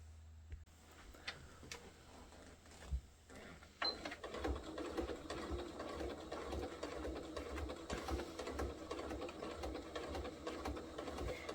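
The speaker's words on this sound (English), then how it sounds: "I'm now going to take it over to the sewing machine and sew along the bottom folded edge all along." A sewing machine runs in steady stitching bursts along the bottom folded hem of a foldaway shopping bag, with a faint lull at first and then continuous close mechanical chatter.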